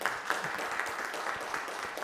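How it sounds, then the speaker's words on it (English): An audience at a theology colloquium applauds the panel participants, with steady, moderately distant clapping from a seated crowd that sustains evenly throughout. "and the participants up here with a round of applause"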